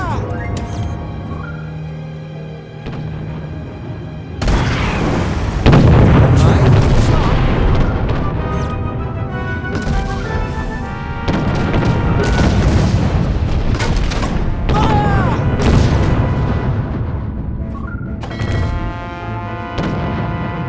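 Cannons fire at a pirate ship in the Treasure Planet: Battle at Procyon video game, with repeated loud booming blasts over orchestral music and shouted game voices.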